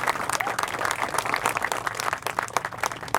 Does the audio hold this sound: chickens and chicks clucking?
no